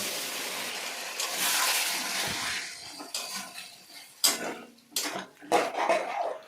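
Water poured into a pan of spiced potatoes at home, a gushing wash that swells and fades, followed by several sharp clanks of a ladle against the pan, with no voices.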